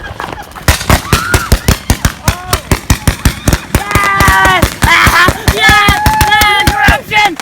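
Fireworks going off outdoors in a neighborhood, a rapid string of sharp loud cracking bangs like a firecracker chain, with crackling and voices shouting over it.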